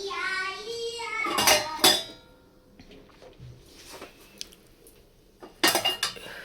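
Dishes and steel cutlery clink and clatter in short bursts while a home dishwasher is unloaded, close by with quiet pauses between. A voice talks briefly at the start.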